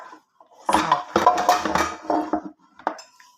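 Metal cooking pot and frying pan handled in a kitchen, a run of clattering clanks and knocks close by, then a pause and a final sharp clink.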